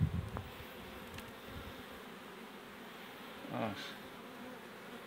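Local honey bees buzz around an open hive during spring colony work before acacia bloom, a steady soft drone with a brief louder pass near the end and one short spoken word.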